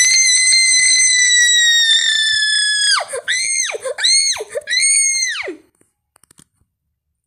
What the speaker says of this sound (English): You do not scream like that.